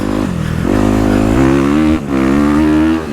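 A dirt bike engine on a motocross track buzzes loud and close, holding a steady rasping drone that rises in pitch, dips briefly as a gear shift occurs, then climbs again.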